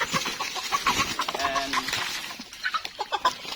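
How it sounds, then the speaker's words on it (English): A backyard chicken clucks in several short, bright calls spread through the moment, set against light outdoor background noise, with a brief spoken word near the start. "And this is my chicken."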